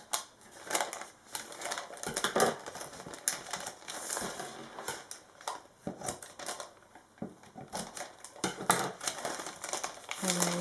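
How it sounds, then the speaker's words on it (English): Paper being cut and crinkled while lining a tall, skinny soap mold, giving close, irregular snips and rustles with short gaps in between. "cut your little sides right here"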